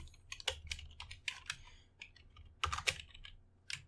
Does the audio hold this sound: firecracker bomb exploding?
no